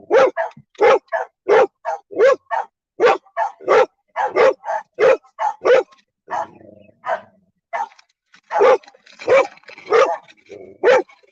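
Several dogs bark at a gate in a long, steady run of loud, close barks, with a short pause in the middle before the barking starts again.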